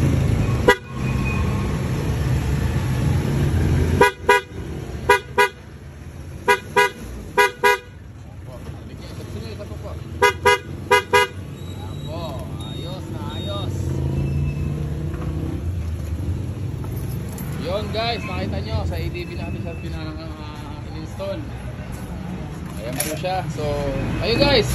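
PIAA car horn being tested, sounding in a series of short, loud, close honks that come in separate bursts, followed by a longer stretch of low vehicle rumble with voices talking.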